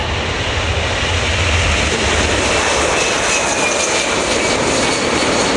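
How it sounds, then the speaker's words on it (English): A military transport aircraft of the 97th Air Mobility Wing rolls for a short field takeoff at an airshow, its engines giving a loud, steady roar that builds slightly with a rising whine. "here it is rolling now for what should be a pretty impressively short field takeoff"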